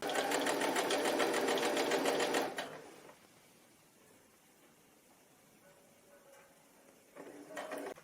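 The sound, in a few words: sewing machine stitching shoulder seam of dress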